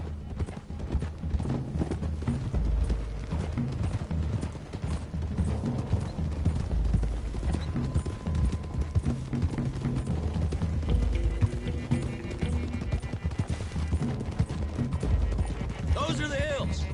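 Horse hooves clip-clopping steadily in Red Dead Redemption 2 as a group rides along a road toward the hills, a continuous close rhythm of hoofbeats mixed with game music and spoken dialogue.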